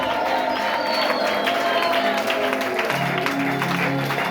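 A church congregation at a seminar service in Brazzaville applauds and cheers loudly and steadily, with shouts rising over dense clapping and sustained singing-like tones throughout.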